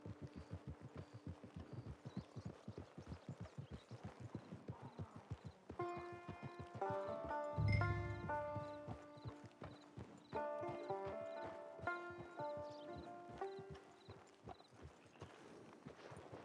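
Horse hooves clip-clop steadily at a trot in the Red Dead Online western game, with a clear whinny around the middle and musical tones layered over the rhythmic footfalls.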